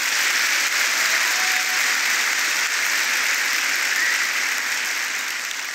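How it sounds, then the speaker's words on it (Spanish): During a Spanish-language evangelical church service, a congregation applauds loudly and steadily as a dense, unbroken wash of clapping. "Fuerte aplauso al Señor."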